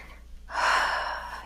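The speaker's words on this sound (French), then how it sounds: "Et on respire toujours." A single deep inhalation during a gentle morning yoga warm-up. It comes as one close, breathy draw of air that swells and then fades out.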